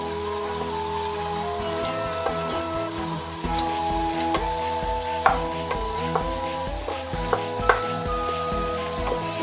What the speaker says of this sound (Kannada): ಇವಾಗ ಇದನ್ನು ಕೂಡ ಫ್ರೈ ಮಾಡ್ಕೊತೀನಿ